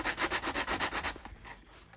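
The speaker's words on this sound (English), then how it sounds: "I've just got sandpaper on a sanding block there, rolled up" Rhythmic rubbing of sandpaper on a sanding block along wood edges, about eight quick back-and-forth strokes close up, then lighter, scattered scraping that fades toward the end.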